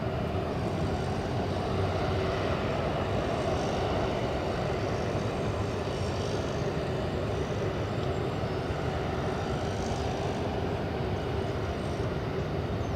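A WestJet airliner powers up for takeoff on runway 24 left at Los Angeles International, heard as a steady, fairly distant engine rumble and roar that holds at an even level throughout, with no voices.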